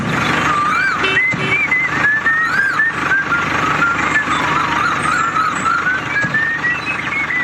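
A small remote-controlled toy tractor truck moves about while building a mini concrete bridge, giving off a continuous run of high chirping reversing beeps over a low motor whir.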